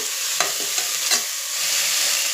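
Sprouted horse gram roasting in a pan, with a few distinct scraping stir strokes over a steady dry sizzle close by; no one speaks.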